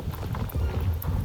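Horse hooves clip-clop in a steady rhythmic patter in a video game, with several bright chime-like ticks over a low murmur.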